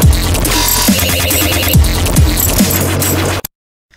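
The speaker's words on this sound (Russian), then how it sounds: "В итоге у нас должно получиться что-то вроде такой басовой партии." A synthesized dubstep bass line made in Massive growls and wobbles loudly, with deep swooping drops and gritty mid tones, cutting off abruptly into silence after about three and a half seconds.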